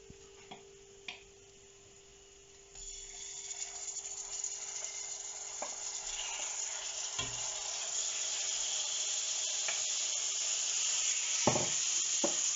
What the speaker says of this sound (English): So now I'm going to drop in the steak.